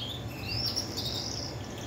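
A caged pet bird chirps in short, high tweets over a steady, noisy background at a pet bird market, with no speech.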